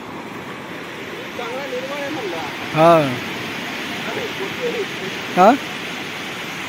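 Surf rolls steadily onto Tarkarli beach in a continuous wash, while someone talks and laughs over it in two short bursts.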